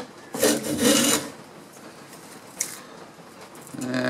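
A sharp bench plane takes thin wood shavings in two close rasping strokes near the start, then a quieter scrape later and a soft rubbing swell at the end.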